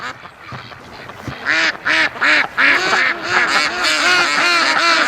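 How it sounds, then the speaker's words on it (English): A flock of ducks quacking loudly nearby, a rapid, overlapping series of raspy calls in quick bursts, continuing throughout with only faint background noise. "Hey, that's a mess of ducks."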